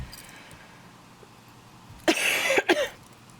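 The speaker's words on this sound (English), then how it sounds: "Oh my God, she coughed." A woman coughs a couple of times in quick succession, close and fairly loud, after a quiet stretch.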